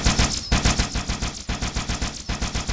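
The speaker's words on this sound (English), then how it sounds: "When we fire this projectile, and it shoots that, and it reloads" Rapid-fire projectile weapon in the video game Halo, a fast burst of sharp, loud shots in quick repeating rhythm with brief breaks between volleys, close and alone without talk.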